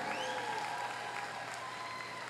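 Sustained applause from a large crowd at a university commencement ceremony, a dense wash of clapping that stays steady and fairly loud throughout.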